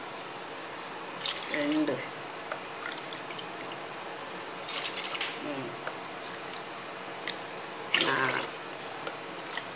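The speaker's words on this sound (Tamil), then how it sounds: "7 கப்பு வாட்ரு விட்டுக்கோங்க" Cups of water are poured into a pot to make ragi porridge, heard as three short splashing pours spaced a few seconds apart, while someone speaks in Tamil throughout.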